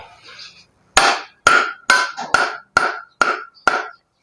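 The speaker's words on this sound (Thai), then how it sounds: "เวลา ตัวมีดกระทบกับไม้จะได้ยินเสียงบ้องก้องกังวานนะครับผม" Seven sharp, evenly spaced strikes of a knife blade on wood, each with a bright ringing resonance from the bamboo handle that lingers briefly, preceded by a faint rustle.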